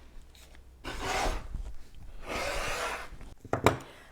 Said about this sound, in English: Here I'm going to cut a straight edge on my yardage.